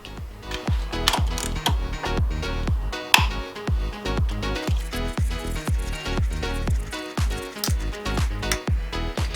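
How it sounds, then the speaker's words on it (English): Rapid ratcheting clicks from a wrench working the nut off a Jeep stroker engine's crankshaft vibration damper, a dense, steady mechanical clatter up close that runs throughout without speech. "we're going to take the nut off the vibration damper there"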